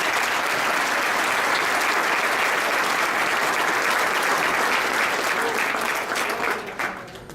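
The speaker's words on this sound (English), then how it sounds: "please give us another round of applause for our MC, Jeff Pecoro." Banquet audience at a softball hall of fame dinner applauding the MC, sustained thick clapping from many people that holds steady, then thins and fades out near the end.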